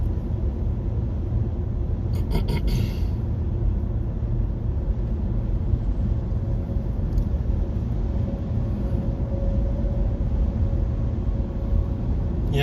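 Trucks roll past on a Virginia highway, a steady low rumble of tires and engines heard from inside a Nissan Leaf electric car, continuous and moderately loud with a brief clatter early on.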